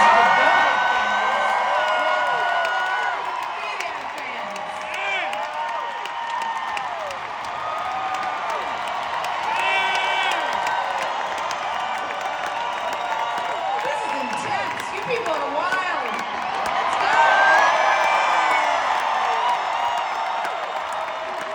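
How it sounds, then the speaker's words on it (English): Audience applause and cheering fill a hall during a Rock and Roll Hall of Fame induction speech, a steady loud wash of clapping with whoops rising near the end. "You could clap for swooning"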